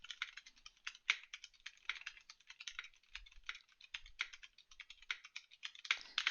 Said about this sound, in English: a mechanical keyboard with brown switches